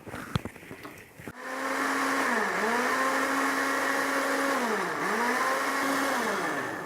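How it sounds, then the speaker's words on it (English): A kitchen blender whirring through fresh tomatoes, starting after a few clicks and clatters, then running loud and steady with two brief dips in pitch as the load shifts. "we need to blend these fresh tomatoes, the contents"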